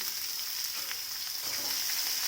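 A large onion with garlic and cumin frying in a pan, giving a steady, even hiss of sizzling oil that stays close and alone for the whole stretch.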